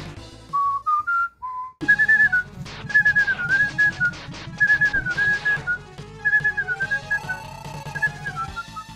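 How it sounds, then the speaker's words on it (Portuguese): A person whistles a medley of melodies, loud and near, with gliding phrases over a steady backing of game music throughout, and no talking. "Eu assobiando."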